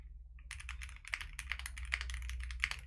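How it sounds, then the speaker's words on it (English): Typing on a custom JRIS65 gasket-mount mechanical keyboard with no case foam: a close, fast run of crisp key clacks after a brief pause, with no talking. "The keyboard sound without any case foam or"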